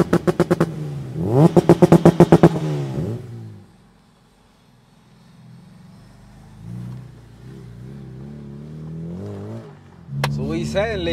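A supercharged Honda Civic Type R EP3 with a Rotrex supercharger and 450 bhp revs in sharp, pulsing bursts near the start and again at the end. People chat in between.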